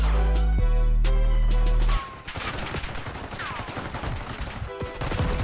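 Bursts of gunfire ring out in Black Ops 6 as shots come through walls, rapid cracking volleys following a steady droning tone, loud and close with dense repeated impacts.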